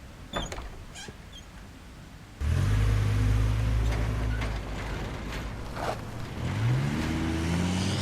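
A car engine from the video game Life Is Strange starts abruptly and revs loudly, its steady roar rising in pitch twice, following a few quiet clicks and creaks.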